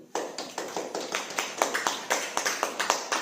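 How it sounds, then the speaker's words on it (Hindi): A church congregation claps in a steady, even rhythm, roughly five sharp claps per second in unison with a faint room echo. The clapping sounds fairly close, no one speaks, and it holds at the same pace throughout. "ताली बजाओ।"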